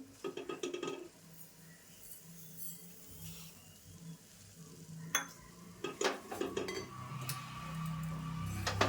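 A spoon stirs semolina sheera with sugar in a pan, producing soft scraping and a gentle sizzle, with a few sharper clinks of utensil against metal toward the end; no voices.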